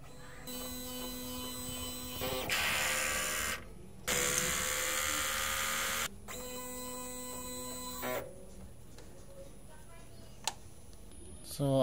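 A DTF printer runs its head clean cycle, with bursts of loud broadband mechanical whirring and pumping switching on and off, broken by quieter humming stretches and faint ticks.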